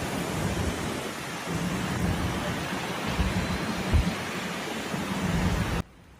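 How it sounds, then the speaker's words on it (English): Heavy typhoon rain during Typhoon Tapah in Guangdong, a dense steady roar with low rumbling that swells now and then, loud and continuous until it cuts off abruptly. "这雨下的，我操，跟世界末日一样的。"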